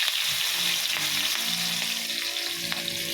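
Green chilies fry in oil for Bombay chutney with a loud, continuous sizzle, dotted with occasional pops and faint stirring scrapes.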